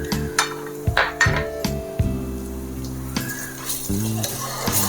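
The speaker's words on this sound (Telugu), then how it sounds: "చూడండి ఆనియన్స్ అంతా ఫ్రై అయిపోయినాయి కదా ఇందులో అల్లం వెల్లుల్లి పేస్ట్ వేస్తున్నా" Ginger garlic paste hits fried onions in a pan, and a soft sizzle rises under repeated clanks and scrapes of a spoon against the metal, coming in short, irregular bursts.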